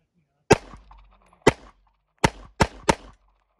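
Five sharp gunshots from a pistol on a 3D printed 320 PDW frame, fired unsuppressed in an uneven sequence: two spaced shots, then three quick ones close together, each loud and near with a short decaying tail.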